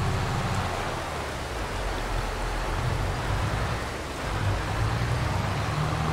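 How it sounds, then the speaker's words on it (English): Steady game rain in Farming Simulator 22, a soft, even hiss of falling rain with a faint low rumble beneath, continuous and unbroken throughout, with no talking. "We just got into some rain."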